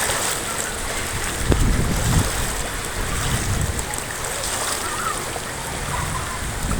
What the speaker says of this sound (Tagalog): Grabe baha dito guys oh. Parang kala mong ilog Pasig no.